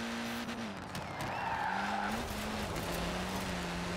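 A Ford rally car drifts with tires skidding in the racing game Forza Horizon 4, a sustained tire squeal over a steady engine drone, loud and close, with no talking.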